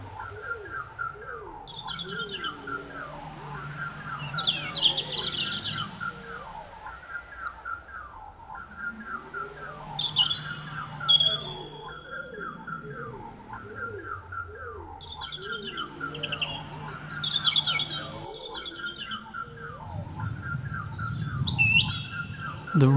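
Birds chirp and tweet throughout with repeated whistled calls and occasional cooing, layered over a steady background texture, moderately loud and continuous with no talk.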